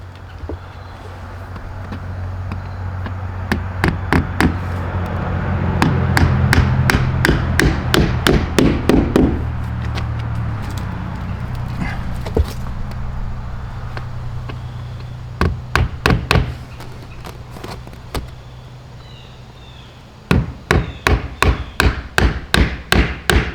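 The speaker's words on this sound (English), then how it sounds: "So now I'm putting on the garage door weather stripping." A hammer drives in fasteners while weather stripping goes onto a garage door, sharp knocks coming in quick bursts of several strikes with pauses between, loud and close over a steady low hum.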